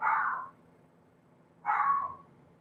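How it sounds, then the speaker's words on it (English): A dog barking indoors, two separate short barks about a second and a half apart, moderately close, with quiet in between. "Yeah, he'll stop barking."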